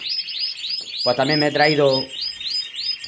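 Caged pet birds chirp and tweet in quick, bright calls throughout, loud and close, while someone speaks over them for about a second in the middle.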